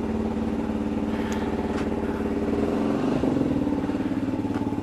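A Yamaha WR250X supermoto motorcycle riding along, its engine thrumming loud and near at a steady pace with a brief throttle rise and faint clatter, no speech.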